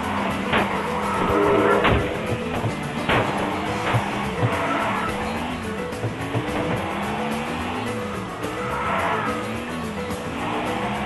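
A Saleen S7 twin-turbo race car in a Fast & Furious drifting video game on an Oahu track: a droning engine with shifting pitch runs under repeated loud tire squeals and skids, with several sharp impact-like bursts.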